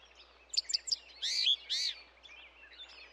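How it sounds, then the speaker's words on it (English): A small bird perched on a branch gives a quick run of high chirps, then two longer rising whistles and a fainter trailing call, close and clear over a faint low hum, with no speech. "I want to be just like that bird,"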